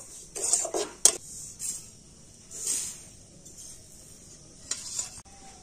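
Metal pan and utensil clatter as lightly fried semolina is taken off the heat in a home kitchen, a few sharp scattered knocks and scrapes over faint sizzling, fairly quiet and with no talking.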